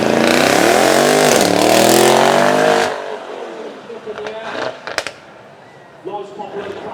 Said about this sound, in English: Nice popular crack coming from the back of that.